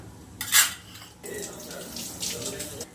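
Water splashes briefly into a metal pot of rice, a short pouring gush, followed by someone talking amid faint kitchen clatter.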